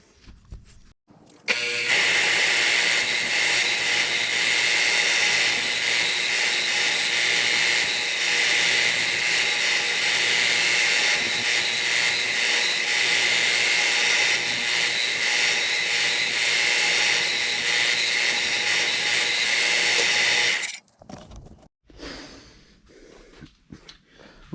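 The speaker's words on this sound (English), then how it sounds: "Go clean these up on the belt sander." A belt sander cleans up C10 truck bedside and fender parts, a loud continuous high-pitched grinding roar that starts abruptly, holds steady for about twenty seconds, then cuts off.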